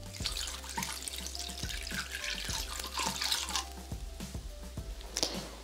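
Water running into a bowl of lemon peels, a steady close trickle of pouring water with faint drips and small knocks, quiet and alone without speech, lasting several seconds.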